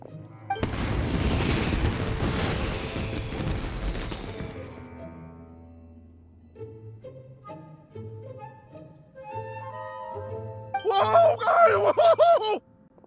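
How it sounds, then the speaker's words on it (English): Fireworks exploding in the video game Genshin Impact, a loud cluster of crackling booms for several seconds, followed by quieter musical tones and a voice groaning near the end. "Yoimiya, this is turning into a bit of a fireworks display."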